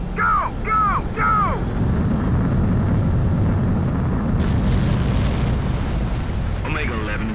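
A fighter jet's engine roars in a constant, heavy rumble as it takes off in the Ace Combat 7 VR video game, with clipped radio voices chirping over it at the start and end.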